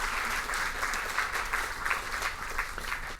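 At a Haitian high school quiz match, the audience applauds the judges with a dense, even wash of clapping that carries on for a few seconds with no voices.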